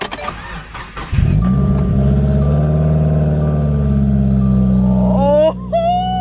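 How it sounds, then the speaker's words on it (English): A car cold-starts after a catless exhaust install: a brief cranking chatter, then the engine catches and settles into a loud, droning idle nearby. Near the end it dips briefly and a rising whine appears over it. "Hopefully the car starts right back up."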